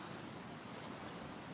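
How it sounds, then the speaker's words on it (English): Steady, soft rain falls on open water in the survival video game Stranded Deep, an even, faint hiss with no voices. "Sail on the water in a little bit of rain."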